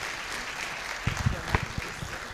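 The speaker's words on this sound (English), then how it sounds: "I think he deserves a better round of applause." Brief scattered applause from a small audience at a business signing event honoring a pharmaceutical company CEO, a few sharp claps swelling then thinning out over a couple of seconds.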